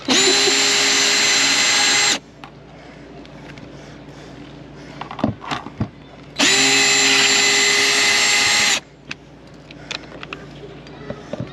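A power drill backs screws out of a panel in an RV, running in two steady, loud, whining bursts of about two seconds each, separated by quiet handling clicks and knocks.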